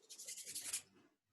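A short, quiet scuffing rub across a surface during colouring work, a brisk run of close rasping strokes that fades out after about a second.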